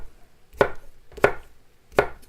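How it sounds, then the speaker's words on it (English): A knife cuts zucchini on a cutting board in three separate sharp chops, evenly spaced and close, with no talking. "So if you cut them in half, this will make your cutting time faster."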